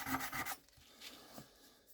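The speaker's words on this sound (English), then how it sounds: "it's sanding. It's sanding and it's becoming smooth, like pretty quickly" Quarry stone from Yangshan is rubbed with 600 grit sandpaper, making a few close, gritty scraping strokes that start loud and then fade to softer, fainter rubbing. No one speaks.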